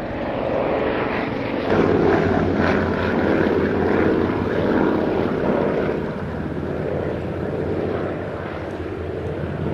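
A rare Avro 19 Anson twin-propeller aeroplane flies past at an Old Warden air display, its engines giving a loud, steady droning roar that rises slightly and then eases as it passes.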